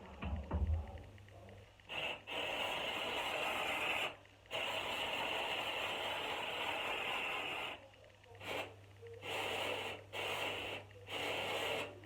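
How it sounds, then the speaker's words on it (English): Long steady hiss of a spray bottle misting a synthetic wig, with a few brief pauses between bursts, close and fairly loud with no talking. "make sure you spray it at least 4 inches away from your wig"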